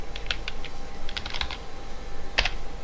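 Someone types on a computer keyboard while writing code, giving scattered clusters of light clicks in short bursts with pauses between, fairly quiet and close with no talk.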